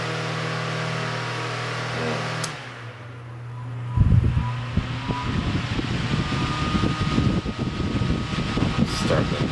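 An electric fan with a two-pole motor starts up again and runs at high speed, a loud whirring rush of air with a fluttering motor drone that follows a brief quieter pause.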